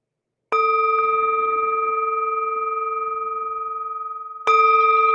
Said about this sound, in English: the sound of this beautiful bell returns us to our true home